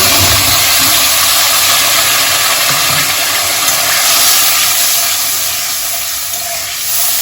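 Ginger, green chili and tomato paste hit hot oil in a pan for a Bengali cauliflower-potato curry, producing a loud, continuous sizzle and steamy hiss.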